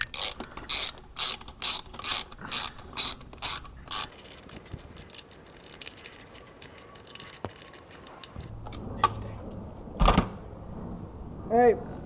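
Rapid ratchet clicks in short bursts tightening bolts in a crisscross pattern on a throttle body spacer of a 2015 Honda Civic Si, close and loud, followed by quieter handling clatter and a few sharp knocks.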